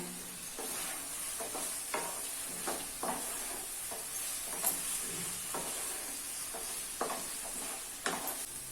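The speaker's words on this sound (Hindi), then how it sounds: "अभी इसमें फ्राई किए हुए पनीर के पीसेस ऐड कर लेना है और मिक्स कर लेना है" Fried paneer pieces being stirred into a masala gravy in a pan, a steady soft sizzle with repeated scraping stir strokes at an even rhythm, close and moderately loud, with no talking.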